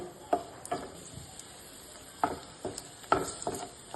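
Cashews and raisins frying in a pan for semiya payasam give off a soft, steady sizzle, broken by several sharp ticks and clinks of a spoon against the pan.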